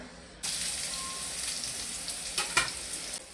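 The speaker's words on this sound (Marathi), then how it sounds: "तेल तापले, तेलामध्ये कांदा टाकायचा." Onion dropped into hot oil sizzles and fries steadily in a home kitchen, a loud continuous hiss that starts abruptly and swells in a few brief louder bursts while stirred, with no talking.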